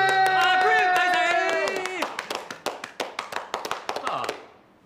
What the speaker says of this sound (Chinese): 俾啲掌声庆祝下